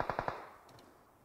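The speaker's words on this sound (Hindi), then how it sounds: "पैराडॉक्स की तरफ से गोली चली" Automatic gunfire in a PUBG Mobile match: a quick burst of three sharp shots up close, each decaying into a fading ring, then faint distant pops.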